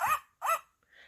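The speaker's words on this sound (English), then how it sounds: "Scooter barked" A dog named Scooter gives two short barks at an outdoor picnic after a baseball game, each sharp and fairly close, followed by a faint high whine.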